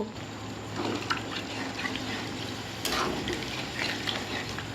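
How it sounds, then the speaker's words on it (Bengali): Chicken meat being stirred in a cooking pot after two bowls of water are poured over oiled-out meat for a sweet-and-sour chicken curry, giving soft liquid swishing and scraping that runs steadily with a sharper clink near the middle. "এবার আমি ভালো করে মাংসটা নাড়িয়ে নেব।"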